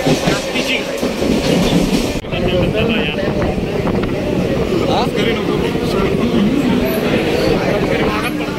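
A Mumbai local train runs near Chinchpokli station with a loud, continuous rumble and rattle of wheels and carriages, close and unbroken throughout.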